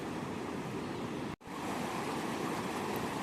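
Rising water of the Murti River in Jalpaiguri rushes after hill rain, a constant broadband roar of flowing current, interrupted only by a brief dropout midway before resuming at the same steady level.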